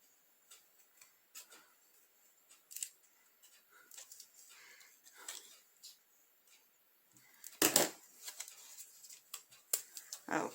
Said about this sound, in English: But trimming it is not that difficult because it is a lightweight cardstock.